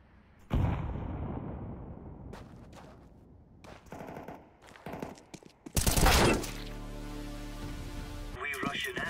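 Counter-Strike 2 gameplay: scattered gunshots and clattering movement lead to a loud, sudden grenade blast that roars and rumbles for a couple of seconds before fading into more game noise.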